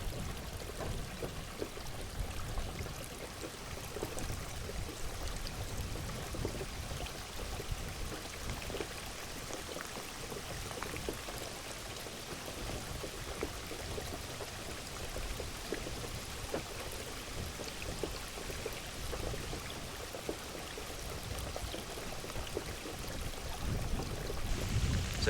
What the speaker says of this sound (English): The rain has just come in.